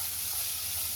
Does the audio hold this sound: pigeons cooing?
no